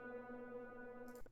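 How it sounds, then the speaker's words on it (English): An ambient shot sound effect at its original pitch, a steady sustained harmonic drone with a low hum that holds evenly, ending in a short soft click, heard alone. "it's just this ambient shot"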